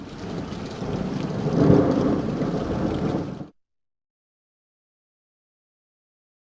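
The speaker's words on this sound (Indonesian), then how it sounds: "Tiba-tiba hujan turun dengan lebatnya, beserta sambaran petir." Heavy rain pours down with a loud thunder rumble swelling at its peak, a dense steady roar that cuts off abruptly partway through.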